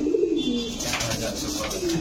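Saharanpuri pigeons coo close by at a breeding farm, giving soft low throaty calls that rise and fall in a slow rolling phrase over faint background noise.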